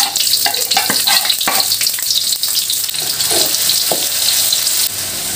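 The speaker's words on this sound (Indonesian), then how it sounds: "Menggoreng sekitar 10 biji ya, 10 siung." Garlic cloves fry in hot oil with a busy, crackling sizzle and occasional clinks of stirring, steady and close throughout.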